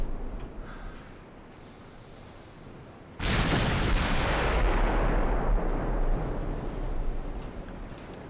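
Heavy ship guns fire in Shipyard Champions, a sudden loud booming blast that rolls into a long sustained roar and rumble, close and dominant with no talk over it.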